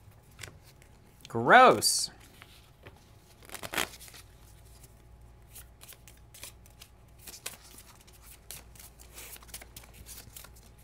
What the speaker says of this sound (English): And then I shuffle my deck.